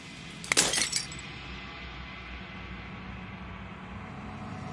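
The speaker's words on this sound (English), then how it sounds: "As the final fragment of glass shatters" Glass shattering in the video game Slay the Princess, a single bright crash with tinkling fragments lasting under a second, followed by a quiet low hum.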